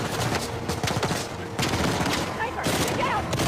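Machine gun fire crackles in dense bursts during Uncharted 4 gameplay, with gunshots and booms in a noisy firefight and someone talking over the shooting.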